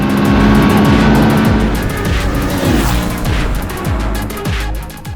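A Honda Transalp XL750 twin-cylinder motorcycle engine revs repeatedly, rising and falling in a series of quick blips, loud and close throughout.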